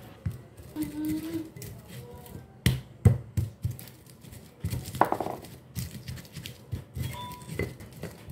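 Irregular dull thuds and knocks of spices being pounded in a mortar, close by, uneven in rhythm with brief pauses between strikes.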